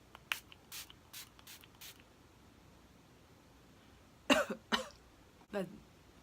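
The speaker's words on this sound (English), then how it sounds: "This is a spray, obviously, a mist." Several short hissing sprays from a facial primer mist bottle, a quick run of light pumps followed by a few longer, louder bursts, close by with no talking.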